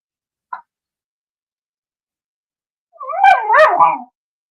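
A dog gives one short yip, then after a pause a louder run of two or three quick barks and whines, close by with no talk over it.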